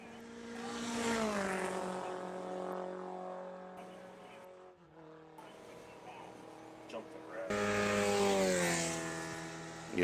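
A Formula race car at an SCCA Super Tour round at Watkins Glen runs off the track after losing its brakes. Its high-revving engine whines in clear harmonic tones that sweep down, drop away, and then surge loudly back.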